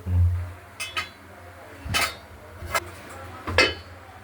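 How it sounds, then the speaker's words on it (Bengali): Rohu fish curry with potatoes tipped from a pot onto a plate, a few clinking metal-on-dish knocks and scrapes spaced out over a quiet low hum. "মাছটা থালায় ঢেলে ফেলেছি"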